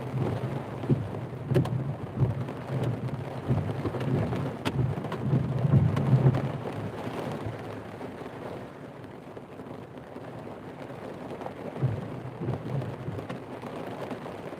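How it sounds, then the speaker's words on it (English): Steady rain with distant rumbles of thunder during a thunderstorm, heard from inside a car while out doing delivery driving, a continuous low wash with a few louder swells. "First time I've heard the thunder."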